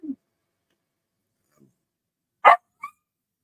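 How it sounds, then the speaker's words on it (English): Dogs barking indoors, a single sharp close bark followed by a shorter yip, with a faint low sound at the start and near silence between. "Sorry, got my dogs with me again."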